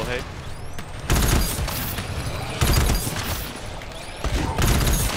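GTFO gunfire from a co-op team, heavy shots and sustained bursts in three loud waves with brief gaps, while players talk over the shooting.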